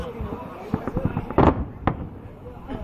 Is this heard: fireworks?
yes